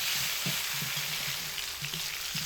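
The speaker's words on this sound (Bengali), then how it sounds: "মিডিয়াম আঁচে আমি কপিগুলোকে লাল লাল করে ভেজে নিচ্ছি" Salted cauliflower florets fry in oil over medium heat, giving a steady close sizzle with soft, regularly spaced low knocks throughout.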